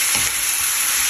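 Pork ribs sizzling loudly in a hot pan for a kaldereta stew, a steady crackling fry with a brief sharper burst as the meat goes in.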